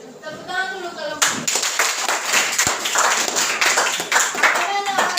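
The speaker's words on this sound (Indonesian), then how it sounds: "Tepuk tangan dulu" A school class claps hands together during a group discussion lesson, starting as a few claps and then breaking into loose, fairly close applause, with children's voices mixed in.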